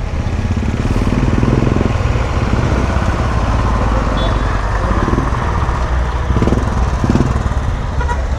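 Motorcycle engine running close by on a busy road during the Dashain festival season, a steady loud drone with passing traffic, a brief horn toot and people talking over it.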